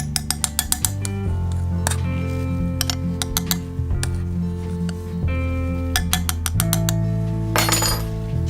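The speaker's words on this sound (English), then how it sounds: "Let's throw in some more pearl. Scoop more." Pearl beads scooped into a fishing-lure mixing setup, with a rapid run of bright clinks and ticks at the start and scattered clicks later, close and loud over a steady tonal background bed.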